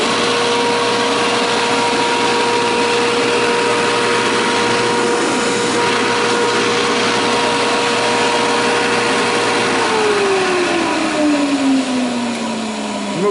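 A salvaged ventilation exhaust fan pulls air through a garage welding hood with a loud, steady whooshing roar and constant motor whine, which drops in pitch near the end as it spins down.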